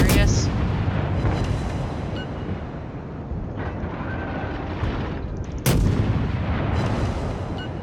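Warship guns firing armour-piercing shells in the naval video game World of Warships: two heavy booming salvos, one at the start and another later, each trailing off into a long rumbling roar.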